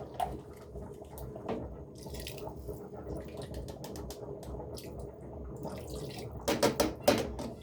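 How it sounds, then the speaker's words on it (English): Water trickles and splashes into a pot of chicken biryani with scattered drips and small splatters, growing louder near the end as the pour picks up. "So we are going to maybe add a little bit of water."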